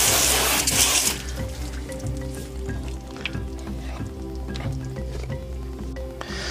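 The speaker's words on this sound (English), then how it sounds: "always spray your fish off. They got slime on them and it kind of helps you keep a water hose by." A water hose sprays freshly caught pompano fish at Kure Beach, North Carolina, with a loud hiss at the start that drops to a steady, quieter splashing and running flow.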